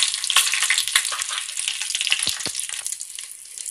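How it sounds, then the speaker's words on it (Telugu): Whole spices sizzle and crackle in hot oil for chicken biryani, a steady close frying hiss with small pops and stirring scrapes, no voices over it. "వీటిని వేయించుకోవాలండి దోరగా."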